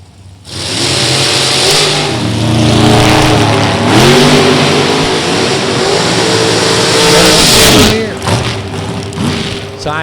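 Two drag racing cars roar down the strip side by side at Beech Bend, engines loud and close as they accelerate hard, pitch climbing through gear changes before dropping away near the end.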